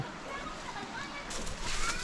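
River water splashes and sloshes steadily along a forest trail in Tarlac, growing louder and brighter toward the end as the flow is stirred, with faint voices nearby.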